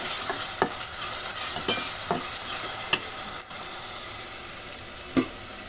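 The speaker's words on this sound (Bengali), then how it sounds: "পেঁয়াজটা ভাজা হয়ে গেছে, এখন দিয়ে দিব রসুন বাটা।" Sliced onion and garlic paste frying in a pot for chicken curry, a dense continuous sizzle with occasional scraping stirs of a spatula, heard close and alone.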